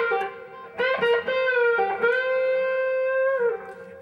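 An electric guitar plays a solo with a warm, woofy neck-pickup tone: a few sustained, singing notes with smooth bends, played clearly and alone.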